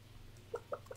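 Void chickens in the farming video game Stardew Valley give three short soft clucks in quick succession, faint and close over a low steady hum.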